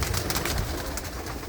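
Domestic pigeons, a family-kept flock that includes racing birds, coo softly and continuously nearby with a low, rolling burble and no talking.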